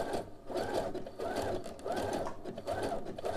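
A sewing machine stitches the curved seam of boxer brief fabric in short, rapid bursts, close and steady with brief pauses between runs.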